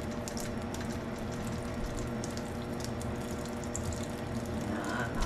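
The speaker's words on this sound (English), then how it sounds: "Let's run a little cool water over these." Cool tap water runs steadily over a batch of peaches in a sink during home canning, a constant close splashing rush with no pauses and no talking.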